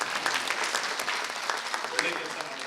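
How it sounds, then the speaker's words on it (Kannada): A seated crowd applauds at a weekly travel magazine launch event, with dense, even clapping that carries on for a few seconds at moderate level. "ಚಪ್ಪಾಳೆ ಹೊಡಿಬಹುದು."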